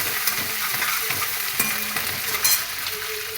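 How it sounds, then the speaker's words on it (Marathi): Garlic, chili and ginger paste with curry leaves frying in a pan of hot oil, stirred now and then, giving a steady close sizzle with a few scraping clinks, no talking. "आता त्याच्यामध्ये आपण घालत आहोत लसूण मिरची आल्याचा ठेचा कढीपत्ता घातलेला आहे थोडंसं त्याला हलवायचं आहे"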